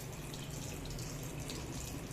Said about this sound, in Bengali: কুলি করো মা, কুলি করো।